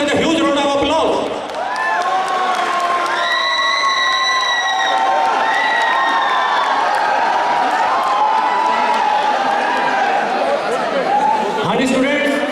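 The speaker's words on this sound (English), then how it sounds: "Please welcome with a huge round of applause." An audience at a college freshers' event cheers and applauds, loud and continuous, with excited shouts and whistles rising over the clapping throughout.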